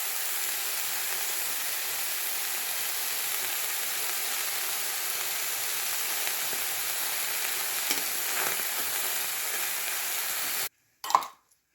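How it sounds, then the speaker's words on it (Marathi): Pavta field beans dry-roast in a pan with a long, steady, close hiss and faint occasional stirring scrapes. It stops abruptly near the end, followed by a short clatter. "असं छानपैकी भाजून घ्यायचे पावटे।"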